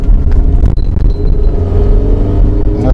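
A 2006 KIA Spectra's engine drones loudly with a deep, steady rumble in second gear, the road noise building as the car picks up speed from inside the cabin.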